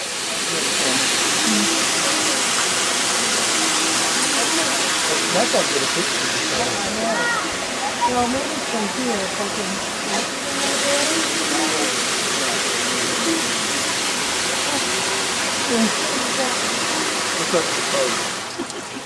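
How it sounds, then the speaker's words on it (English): Akaka Falls in Hawaii pours down volcanic rock into a stream, making a loud, steady roar of rushing water that continues without a break. "The water is running all over the rocks from the top of the mountainside, which is actually Volcano side."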